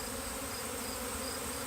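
Dense, steady buzzing of a small bee swarm close by, being gathered from a ginkgo tree for a Warre hive, a continuous droning hum with no voices.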